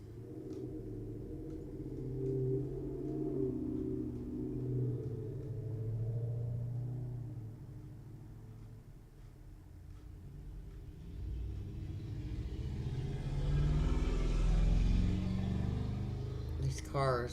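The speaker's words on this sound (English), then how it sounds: "These cars are so fucking loud." Loud cars pass by outside as a low, swelling traffic rumble that rises and falls over several seconds, heard behind someone talking indoors.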